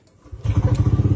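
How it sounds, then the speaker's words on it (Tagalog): A motorcycle engine turns over and catches, settling into a rapid, steady idle chug that stays close and moderately loud. "Pa-startin muna natin yung makina."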